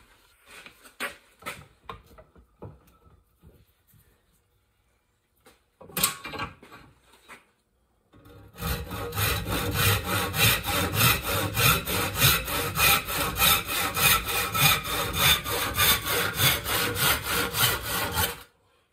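An old ax handle clamped in a vise is cut with a saw. A few scattered knocks and scrapes come first, then a long run of quick, steady, rhythmic sawing strokes through the wood, close and loud.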